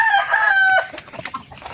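A laying hen clucks and calls loudly and close by in a drawn-out, sing-song cackle, then trails off into softer scattered clucks and farmyard noise.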